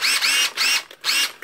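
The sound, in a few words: Makita DTD146 impact driver running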